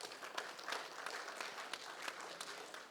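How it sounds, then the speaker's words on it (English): An audience at an engineering society lecture in Nigeria gives a round of applause, dense, even clapping that carries on for the full stretch, moderately distant and fairly quiet. "Please give him another round of applause."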